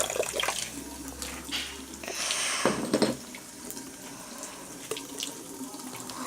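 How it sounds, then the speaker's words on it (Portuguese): Fresh water pouring from a tap for a canaries' bath, a steady, fairly loud splashing stream that cuts off partway through, with light clatter afterward. "Vamos botar a aguinha pra eles. Fresca pra tomar banho."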